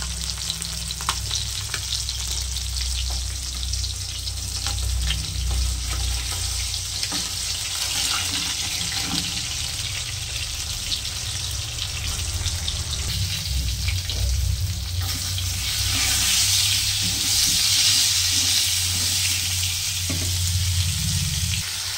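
Fish fries in a pan with a loud, continuous sizzle and spatter, close up, swelling stronger toward the end, with no talking.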